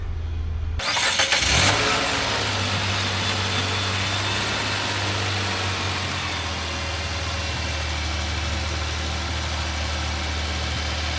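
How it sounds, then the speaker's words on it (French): A car engine cranks and catches after a jump start from a battery booster, then settles into a steady, close, continuous idle hum. "Et la voiture démarre sans problème."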